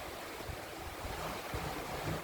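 Ocean waves wash steadily around a sailboat on an Atlantic passage from Madeira to Guadeloupe, a continuous broad rushing surf mixed with wind noise, moderately soft and unbroken, with no voices.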